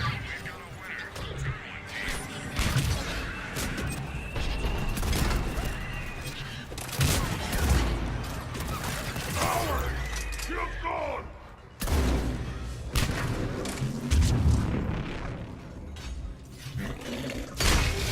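Inferno grenade fire explosions and weapon fire from Mass Effect 3 multiplayer, played as a Krogan Soldier, crash and burst repeatedly amid a busy, loud battle mix, while someone talks over the action.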